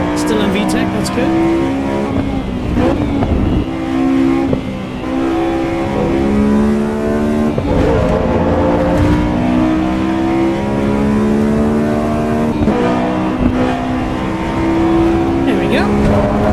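A Honda S2000 in Assetto Corsa EVO revs hard through the gears, the engine note climbing and dropping with each shift in a loud, continuous run, while someone talks over it.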